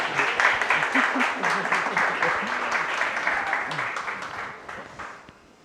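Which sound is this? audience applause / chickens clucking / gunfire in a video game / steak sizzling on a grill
audience applause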